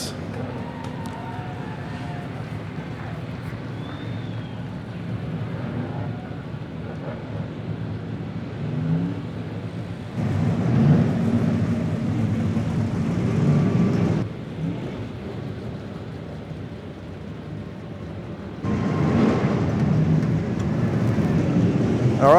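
Sprint cars rumble onto the track at Baypark Speedway, a steady low engine roar that swells in two louder waves as the cars pass, heard from a distance without speech.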